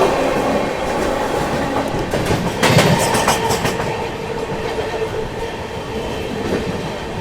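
The Howrah Rajdhani Express, Indian train 12301, runs steadily on the rails with a continuous rumbling clatter and rhythmic wheel clicks, heard from on board. A louder clacking burst occurs midway.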